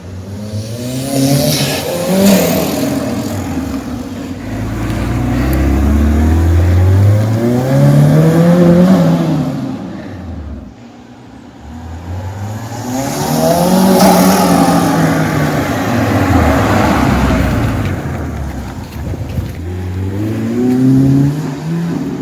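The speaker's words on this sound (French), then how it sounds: "Petite accélération, sans turbo revient en force." A homemade turbo conversion of a Peugeot 106 makes loud, close engine runs, revving up in long rising sweeps, easing off briefly near the middle, then climbing again, with no talking.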